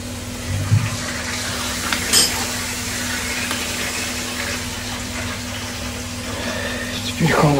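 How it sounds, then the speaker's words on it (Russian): Water runs from a newly installed mixer tap as a plumber opens the valve for a test run, giving a steady hiss with a constant hum beneath it and a few clunks and knocks from handling the fittings. "Смеситель я здесь открыл."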